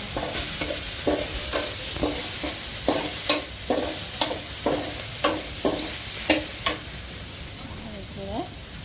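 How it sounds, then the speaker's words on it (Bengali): Spice mix for nihari frying and being stirred in a pot, a loud continuous sizzle with a steady rhythm of spoon scrapes roughly every half second, with no talking. "মশলাটাকে ভালো করে কষাতে হবে।"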